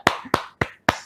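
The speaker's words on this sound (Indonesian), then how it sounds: "Tepuk tangan semuanya." Four sharp, evenly spaced hand claps ring out close and loud, each a crisp isolated smack with brief decay.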